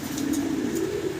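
Pigeons sold as young breeding pairs give a low, soft, continuous cooing that hums steadily throughout at moderate level.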